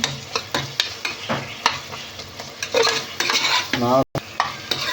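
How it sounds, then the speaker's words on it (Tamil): Tomatoes and green chillies with onion being stirred in a pan over medium flame, a steady sizzle with repeated scraping strokes of a spoon against the metal, close and fairly loud, with a brief cut near the end. "தக்காளி வெங்காயம் அடி பிடிக்காமல் நல்லா கிண்டி விட்டுக்கணும் ஃப்ரெண்ட்ஸ்"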